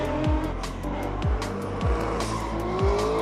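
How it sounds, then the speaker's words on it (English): A drift car's engine roars steadily at a drifting event at Owosso Speedway, Michigan, its pitch rising with turbo whine, while tires squeal and the engine revs surge and drop several times. "turbo noise is a good one"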